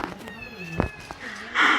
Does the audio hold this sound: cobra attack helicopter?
no